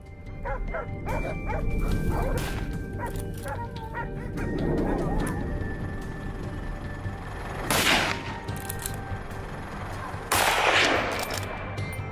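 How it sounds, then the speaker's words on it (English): Hunting dogs bark frantically at close range during a wild hunt in Georgia, with loud broadband bursts that could be gunshots and steady background noise throughout. "Then I heard the hunting dogs barking frantically not far off."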